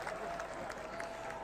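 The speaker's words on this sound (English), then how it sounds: "we've got a little cheer there from the audience" Audience cheering and applause at Eurovision in Concert, a steady, fairly faint wash of crowd noise that carries on without a break, with a few brief brighter swells rising above it.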